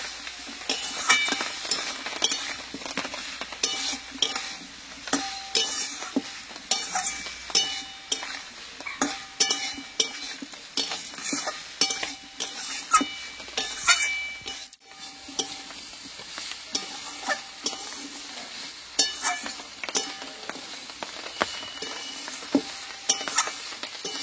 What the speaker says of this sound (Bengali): আরও আমি কিছুক্ষণ নাড়াচাড়া করে নেব।